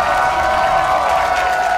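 Large esports arena crowd at a North American League of Legends match between two high-profile clubs, applauding and cheering in a loud, continuous wash of claps and voices.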